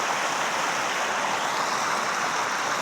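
Steady, broad rushing of a waterfall on a farm, continuous and fairly close, with no talk over it.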